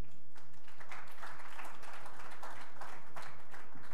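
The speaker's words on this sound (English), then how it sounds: "Can we all put our hands together for Jeevan Anand and TriSpace?" Applause for award winners at a Makeathon awards and valedictory ceremony, with a steady wash of many hands clapping throughout, fairly faint and without voices.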